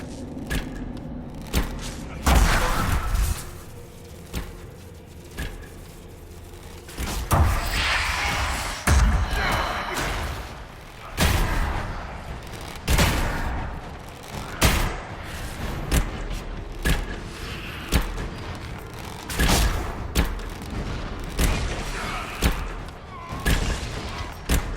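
Video game Dragon Age Inquisition battle sounds: a string of loud booming blasts, thuds and crashes that hit repeatedly at irregular intervals, some close and heavy, with brief lulls between bursts.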